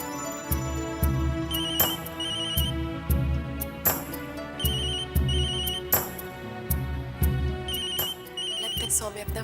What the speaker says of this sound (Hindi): सौम्य अपना फोन भूल गए।